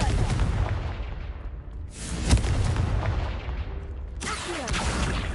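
A Confringo blasting spell explodes in a Harry Potter video game, a loud booming burst with crackling debris, followed by a second blast later amid continuous game background noise.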